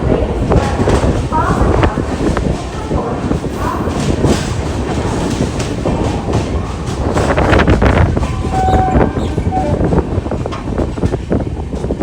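Velankanni to Ernakulam Express running on rails, heard from inside the coach as a loud rumble with rhythmic clickety-clack, wind rush and a brief squeal, people talking faintly in the carriage.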